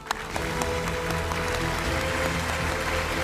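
An audience in a Hindi television debate studio applauds steadily to welcome three judges onto the stage. The clapping is loud and continuous throughout, with no voices over it.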